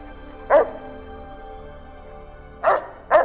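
Puppies in Fallout: New Vegas give three short, high yipping barks with a whimpering edge. The first comes alone, then two close together near the end, each clear and near over a quiet hum.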